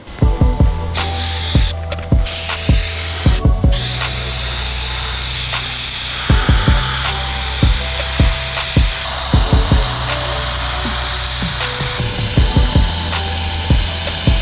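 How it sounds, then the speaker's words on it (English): A sandblaster strips paint from a 30-year-old Ford F150 engine, its steady loud hiss broken by repeated sharp bursts and pulses in an irregular rhythm. "let's load the machine up and see if we can actually sandblast it off"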